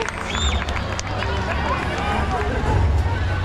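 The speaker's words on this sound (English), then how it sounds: "Everybody give them a big round of applause" A crowd in the stands at a SeaWorld San Diego orca show applauds, a steady wash of clapping mixed with cheering and crowd chatter that continues without a break.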